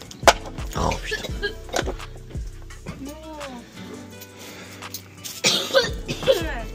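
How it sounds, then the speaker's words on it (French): Several sharp coughs in quick succession, close by, followed by talking and a few more rough coughs near the end. "Oh, c'est marrant, tu tousses."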